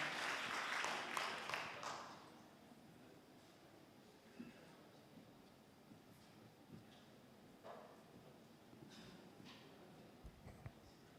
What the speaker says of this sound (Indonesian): kita berikan aplaus untuk Bapak LK Ara